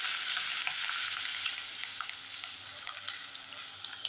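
Curry leaves sizzle in hot oil for masoor dal, a steady crackling fry with scattered sharp pops and light stirring, close and moderately loud with no voices.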